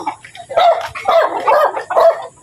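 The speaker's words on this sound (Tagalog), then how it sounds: "Tahol pa." A dog barking close by in a quick run of four or five sharp barks, loud and alone.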